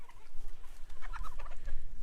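Backyard chickens cluck and murmur as they are let out of their coop, a busy cluster of short, close calls overlapping one another above a low background hum.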